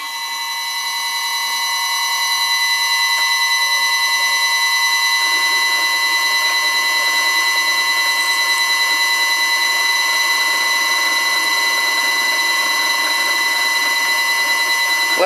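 Vintage Karger lathe driven by a VFD at 20 Hz gives a steady, continuous electronic whine with strong tonal harmonics, building over the first two seconds and then holding level, close and loud.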